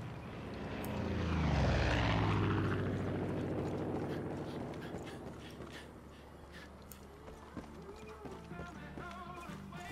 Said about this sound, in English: Damn, planes are back.